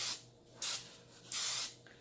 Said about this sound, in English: I can spray the sides and bottom of the pan